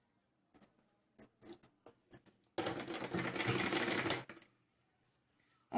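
Sewing machine stitching net fabric for a blouse neckline, a steady close whir lasting under two seconds after a few scattered taps and handling clicks, then stopping.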